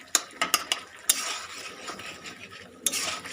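Chicken is stirred and braised with a little water in a pot for a chicken stew. A metal spoon clinks and scrapes against the pot in a few sharp knocks over a soft, steady sizzling hiss.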